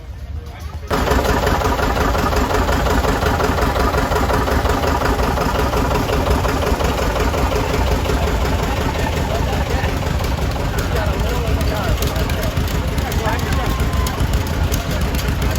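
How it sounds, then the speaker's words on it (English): A 1941 John Deere H tractor engine starts and then runs steadily, loud and close, with a continuous low chugging that dominates the scene at a parade. "Next one is also a John Deere H, so 41 model, owned by Kevin Miller."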